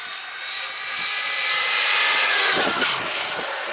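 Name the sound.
Arrma Outcast/Notorious 6S RC car motor at speed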